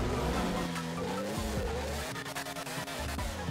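A car in GTA 5 revs loudly as its tires squeal and skid in repeated swooping screeches, the engine note rising and falling close by with no talking.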